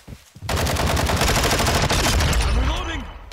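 Loud, continuous automatic gunfire from a Call of Duty multiplayer match rattles in a fast burst after a brief lull, close and dominant, with game effects and a sweeping whoosh near the end.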